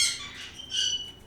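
A pet bird squawks from outside the room, two harsh, bright bursts at moderate volume with a short gap between them. A dog-filled house sits in the background, and no one talks.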